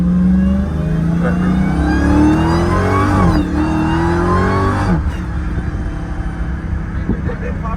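A Dodge Demon's engine revs hard and roars while the car pops a wheelie. The loud rising pitch sweeps and then drops back to a rumbling idle.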